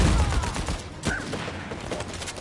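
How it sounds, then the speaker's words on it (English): Rapid gunfire from a video game weapon crackles in a dense, continuous stream with a sharper crack partway through, loud amid busy game noise. "How many bullets has he got on that gun?"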